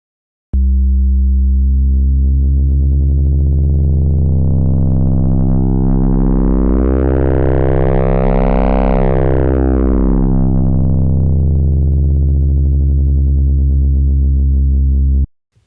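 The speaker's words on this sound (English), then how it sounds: "Here is an example of what the cross-modulation can do using the Jupiter oscillator in" A u-he Diva software synthesizer using its Jupiter oscillator with cross-modulation: one continuous, loud harmonic tone whose overtones sweep upward to a bright peak midway and then fall back, running about fifteen seconds with no voices.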